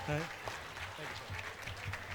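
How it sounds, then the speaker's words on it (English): Scattered audience applause at a library foundation masquerade gala, faint and diffuse, with a voice speaking over it at the start. "Please give him a round of applause."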